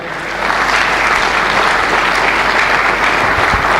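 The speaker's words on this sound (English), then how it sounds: "Clap for Bayelsa." Audience at a government transparency briefing bursting into steady, dense applause that starts abruptly and holds loud for several seconds, with no speech over it.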